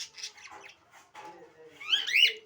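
Birds squawking and calling as they are fed in the morning, the harsh calls coming close and loud, rising near the end.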